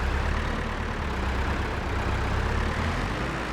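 Tractor engine in Farming Simulator 2025 driving off a trailer, a steady, loud low rumble and drone with no break throughout.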